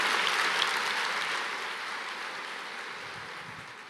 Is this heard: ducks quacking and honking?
no